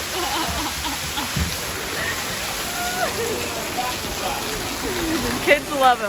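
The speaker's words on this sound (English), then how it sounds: "Nice waterfall." A waterfall at Disney's Animal Kingdom pours with a steady, broadband rush throughout, fairly close, while people talk over it.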